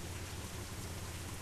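Steady, dense rain in The Crew Wild Run racing game, a continuous loud wash of rainfall with a low rumble underneath, no voices.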